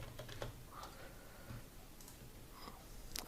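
Faint computer keyboard typing while searching for skincare images, scattered quiet key clicks spread over a few seconds against a low background hiss.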